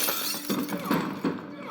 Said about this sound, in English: he gets smashed in the head with a glass bottle